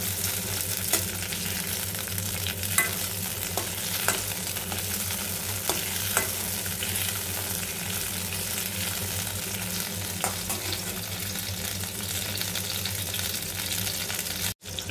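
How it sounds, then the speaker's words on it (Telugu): Coriander stems sizzle steadily in hot oil in a pan for chutney, a constant close frying crackle with occasional soft scrapes of stirring, ending abruptly. "ఇలాగ ఫ్రై చేసుకోవాలి మంచిగా"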